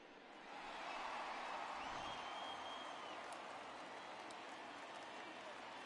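Crowd noise from the home stadium in the baseball video game MLB The Show 20, a Yankees vs Mariners matchup, swelling into sustained cheering and applause under a commentator's voice.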